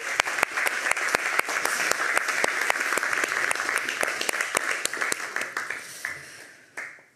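Loud, sustained applause from a symposium audience, many hands clapping together before thinning out and fading at the end.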